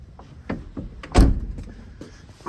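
A door on a 2019 Iveco Daily 70 180 dropside van swings and shuts with one solid thunk, close and moderately loud amid faint handling noises.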